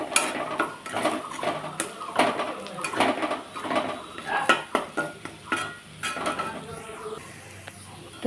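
An egg is stirred and fried in a pan, with repeated scraping and clinking of a utensil against the pan over a faint sizzle, in an irregular rhythm and close by.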